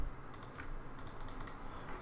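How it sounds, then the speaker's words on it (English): Computer keyboard key press and mouse clicks while retouching an image in Adobe Photoshop, heard as a few quiet, close clicks and taps spread across a short stretch with no talking. "select Alt on my keyboard and click to sample an area, and then click over to remove"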